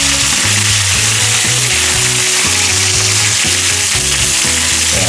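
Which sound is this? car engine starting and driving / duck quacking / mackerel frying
mackerel frying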